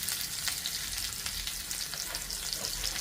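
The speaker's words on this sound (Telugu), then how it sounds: "ఈ తాలింపు బాగా కొంచెం ఈ ఉల్లిపాయ దోరగా వేగిన తర్వాత వేగిందండి" Finely chopped onions with dried red chillies fry in oil for a tempering for a gongura prawn curry, giving a steady close sizzle with occasional sharper spits.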